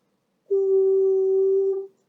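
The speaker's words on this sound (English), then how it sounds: "A nice steady tone." A steady electronic tone holds at one pitch and volume for over a second, starting and stopping cleanly in silence.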